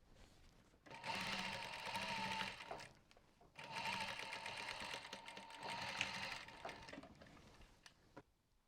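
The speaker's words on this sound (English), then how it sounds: "we're going to do that same line of top stitching down here as we did with there" A sewing machine runs two long bursts of top stitching along a denim bumbag, separated by a short pause, a steady close mechanical whir with rapid needle chatter.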